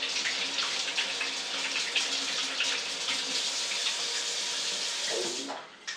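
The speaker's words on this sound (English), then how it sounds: "This is why I have the sink running." A kitchen sink tap runs in a continuous, close, hissing stream of water that is fairly loud and steady, then cuts off abruptly near the end.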